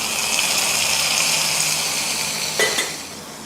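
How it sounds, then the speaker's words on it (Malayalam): Hot tempering of mustard seeds, dried red chillies and curry leaves poured into pachadi, a steady loud sizzle and hiss throughout with a brief clink near the end, no talking. "തീ ഓഫ് ചെയ്തിട്ട് ഒരു 2-3 വറ്റൽമുളക് ചേർക്കാം. 4-5 കറിവേപ്പില ചേർക്കാം. ഇതിലേക്ക് താളിച്ചൊഴിക്കാം."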